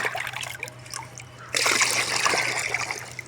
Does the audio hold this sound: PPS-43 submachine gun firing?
no